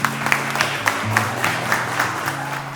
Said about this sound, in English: can we give a big round of applause for them?